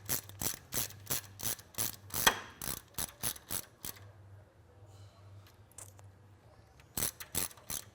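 Ratchet tightening the ball joint cap bolts on a RZR: quick bursts of sharp clicking strokes, near and fairly loud, with a pause in the middle before another rapid run of clicks.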